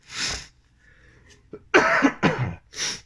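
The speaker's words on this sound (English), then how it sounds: "I do apologize for the coughing and stuff" Several harsh coughs from one person at close range, a burst near the start, then a tight cluster of two or three hacking coughs and a final one, with quiet pauses between.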